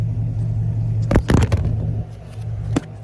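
A 2022 Chevrolet Camaro SS 1LE idles with a deep, steady, close rumble, broken by a few sharp clicks and thumps midway. The engine drone drops noticeably quieter in the last second.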